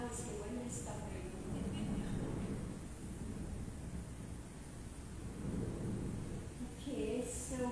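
Steady rain shower falling outside, a dense continuous hiss and patter lasting the whole stretch with no voices, rising and falling slightly in intensity.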